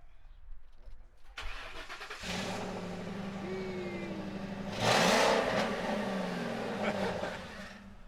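An old police car with a rebuilt rear axle and bearings starts up and idles loudly, a steady close engine rumble that swells briefly around the middle. A voice can be heard faintly at times.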